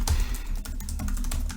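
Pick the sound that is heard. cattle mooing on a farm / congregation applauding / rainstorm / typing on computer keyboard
typing on computer keyboard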